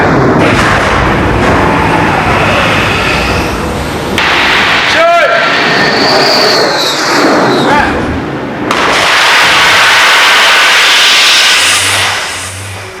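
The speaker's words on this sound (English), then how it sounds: "the aircraft is actually coming over the ship and ready to engage the equipment" A loud, roaring jet lands on an aircraft carrier, sweeping in over constant deck noise, with a rising whine and a heavy rush; voices are heard faintly beneath the din.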